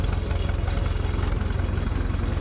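Tractor engine running during hay baling and hauling, a steady low diesel throb with rapid rhythmic knocking pulses, close and loud with no talk.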